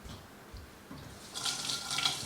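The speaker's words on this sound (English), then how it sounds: "I'm just going to rinse my hands real quick." Tap water running into a kitchen sink while hands are rinsed, a soft rush that grows louder and splashier partway through, close by with no talking.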